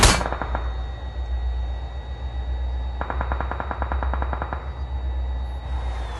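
Automatic gunfire in the PUBG Mobile video game, with a short burst at the start and a longer rapid volley in the middle, loud and close over steady game ambience.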